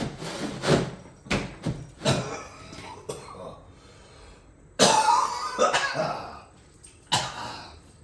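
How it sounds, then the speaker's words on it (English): Several harsh coughs and throat clearings, close and loud, coming in bursts with pauses between them. "I've got a real cough now"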